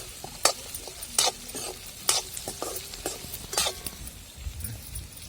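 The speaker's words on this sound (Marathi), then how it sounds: "तर कांदा आणि मिरची आणि लसूण आपण परतून घेतलेला आहे तेलामध्ये" Onion, green chilli and garlic fry in oil under a low sizzle, broken by repeated sharp scrapes of a spatula against the pan at an uneven stirring rhythm.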